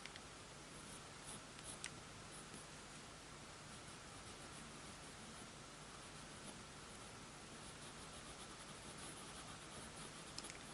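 Colored pencil in a cinnamon shade drawn across paper while shading a dog's ear, making faint, steady, soft scratching strokes close by with no talking.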